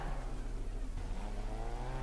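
A race car engine in GRID Autosport drones loudly and steadily, revving with sustained whine and low rumble throughout, alone with no voices.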